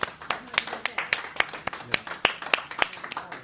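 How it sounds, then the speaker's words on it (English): A small crowd at the Bucks Open Final 2026 claps in a brief, uneven round of applause, a few pairs of hands tapping out sharp, scattered claps at moderate distance. "a little round of applause from people"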